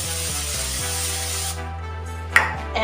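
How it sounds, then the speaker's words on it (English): A steady aerosol spray hisses onto a cake pan for about a second and a half, close by, then cuts off, followed by a faint clink. "we're going to spray our cake pan"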